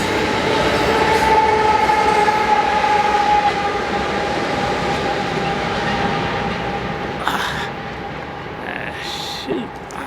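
A freight train with a mid-train DPU locomotive rumbles past at close range, with a steady roar, rolling wheel noise and a sustained tonal whine, plus a few clanks and bumps toward the end as the cars keep moving.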